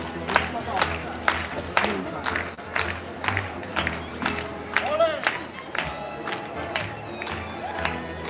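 A crowd in St Mark's Square, Venice, claps along in a steady rhythm to a song, sharp regular claps over music and chatter, with voices and cheering mixed in.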